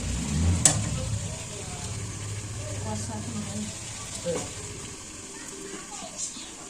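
Meat frying and being stirred in a pan for Bengali kosha mangsho, a soft continuous sizzle with occasional scrapes, heard under chatter in a home kitchen.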